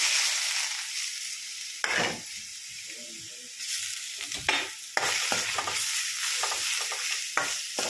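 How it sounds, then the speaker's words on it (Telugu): Grated bottle gourd fries in ghee with a steady hiss and sizzle, broken by repeated stirring scrapes and clinks of a spoon against the pan. "ఇలా బాగా వేయించుకోవాలండి నెయ్యిలో"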